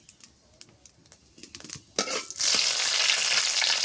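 Cumin seeds tossed into hot oil for tempering a fish and ash gourd curry: a few light clicks and taps, then a sudden loud, sustained sizzle that continues close and steady.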